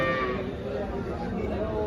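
HF and Jersey cows at a busy cattle market in Dhule, their low lowing and shuffling mixing with a dense background of crowd chatter over a short stretch.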